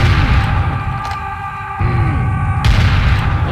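Heavy gunfire booms in Serious Sam classic, The First Encounter, with loud bursts from a machine gun. A brief lull comes midway, then the firing resumes at full force with a sharp crack.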